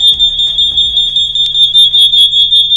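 Shrill, continuous smoke detector test alarm blaring nearby, a single high tone holding without a break, loud and alone.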